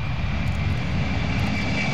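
A passenger airliner roars steadily on its takeoff run, a loud, continuous low-frequency engine rumble with a faint high whine above it, heard alone with no voices.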